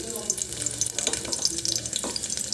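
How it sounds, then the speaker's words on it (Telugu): Garlic and cumin seeds frying in a spoonful of oil give a close, bright crackling sizzle with scattered pops over a short, busy stretch. "వెల్లుల్లి జీలకర్ర వేస్తున్నామండి కొంచెం ఒక స్పూన్ ఆఫ్ ఆయిల్ వేసుకున్నాను"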